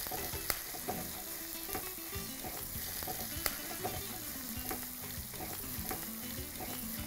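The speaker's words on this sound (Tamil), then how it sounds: "இதில் ரெண்டு கை வெங்காயம் இதையும் போட்டு நல்லா வதக்கலாம்." Onions and cooked chana dal sauté in a pan with a soft, constant sizzle. Light scrapes and clinks of stirring are scattered throughout at a low, close level.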